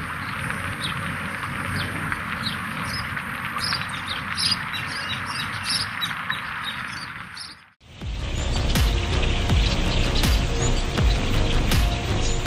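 Dense chorus of many migrating birds chirping and calling continuously, fairly loud and close, with a brief dip to near silence midway before the calls resume.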